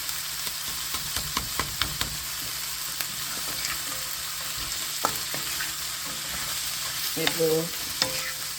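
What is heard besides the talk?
frozen spinach tossed into sautéed onions, sizzling in pan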